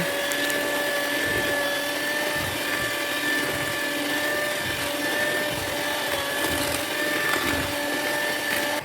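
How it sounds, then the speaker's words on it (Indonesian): An electric hand mixer whirs steadily at high speed through cake batter for onde ketawa with added coconut milk, a loud, continuous motor drone with a faint rhythmic churn beneath it and no talking. "Mixer adonan dengan kecepatan tinggi hingga mengembang."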